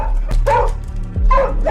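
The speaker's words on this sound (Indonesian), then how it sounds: "Wilbur menggonggong ke arah loteng." Wilbur, a police dog, barks and yips at the attic, giving three close, loud barks in an uneven rhythm over a low rumble.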